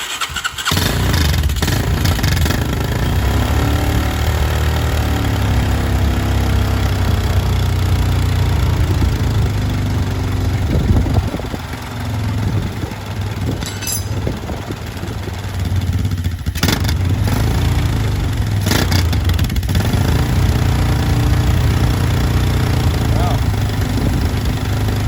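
A Honda motorcycle engine with a carburetor leak is cranked and fires up, then settles into a loud, steady, close idle with a few fluctuations. A voice speaks over it at times.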